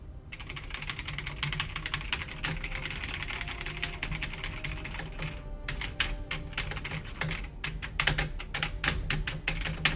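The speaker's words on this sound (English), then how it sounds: "The sound of music is just the sound of mechanical keys being caressed by the passionate loving fingers of a StarCraft player." Rapid, dense clicking of mechanical keyboard keys struck by a StarCraft player in a clan war match, a steady close clatter that runs throughout with a few sharper bursts near the end.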